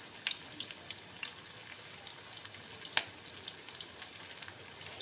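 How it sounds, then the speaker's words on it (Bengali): Potato pieces fry in hot oil in a pan while cooking Kashmiri dum aloo, a quiet, continuous sizzle scattered with small crackles and pops, with no talking. "অল্প অল্প করে আলুগুলোকে আমি ভেজে নেব।"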